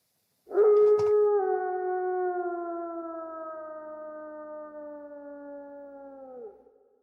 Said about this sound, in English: The sound of a wolf.